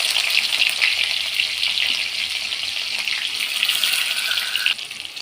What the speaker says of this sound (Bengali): তেলটা গরম হয়ে গেছে, আমি পেঁয়াজ কুচি দিয়ে দিচ্ছি।